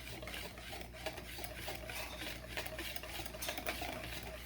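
Pancake batter being mixed in a bowl: a steady, continuous scraping and stirring with light clinks, close and moderately loud, with no talking.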